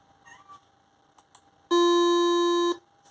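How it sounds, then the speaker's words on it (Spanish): After some faint background noise, a machine gives one loud, steady electronic beep lasting about a second, an alarm for a defective part, then stops. "emite una alarma y sale el mensaje de error, pieza defectuosa"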